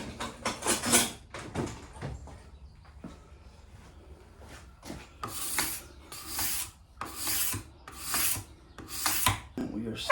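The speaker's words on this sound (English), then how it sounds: "I'm going to take a card scraper and kind of clean that up a little bit." Card scraper rasping across the sole of an antique jack plane during restoration, a series of about eight short, firm scraping strokes in a steady rhythm, close and fairly loud, with no voices.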